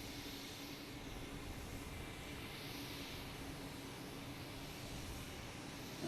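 An American Airlines jet on the runway at Boston Logan gives a steady, distant engine roar with a constant hum beneath it, faint and unbroken throughout.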